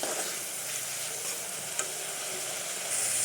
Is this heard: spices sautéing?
yes